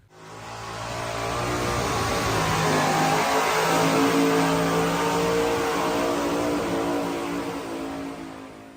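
Loud, close engine roar from a tractor pull at the Chemung County Fair, building steadily and holding at high revs for several seconds before easing slightly, with no talking over it.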